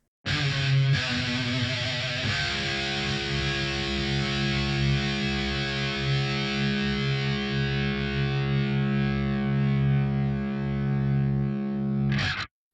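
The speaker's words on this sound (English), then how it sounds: "I'm going to play some low notes and hear how that sustains out." Low notes plucked on a 30-inch baritone ukulele, a few quick notes and then one long note sustaining evenly before being cut off.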